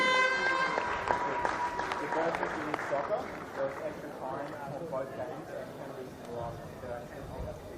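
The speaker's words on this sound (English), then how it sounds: "Another round of applause, please, ladies and gentlemen, for Darwin Olympic Sporting Club" Crowd applause at the Men's Premier League football grand final for Darwin Olympic Sporting Club, a broad wash of clapping that tapers while a voice speaks over it, with a brief horn-like tone early on.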